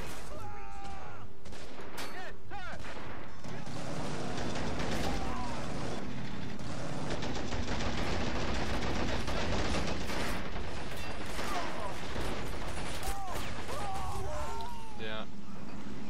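Gunfire and tank cannon shots from the WWII strategy game Men of War Assault Squad 2, dense battle noise with mechanical clatter running throughout, a voice talking over it.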